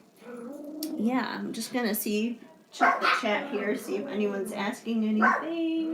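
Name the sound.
dogs barking in the room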